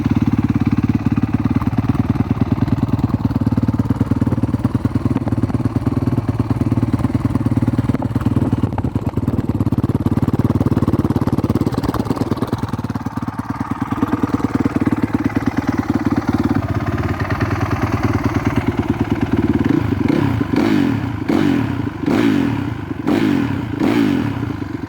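A modern four-stroke dirt bike with a full exhaust system and built-in spark arrestors idles loudly and steadily up close, with a few sharp throttle blips rising out of the idle near the end.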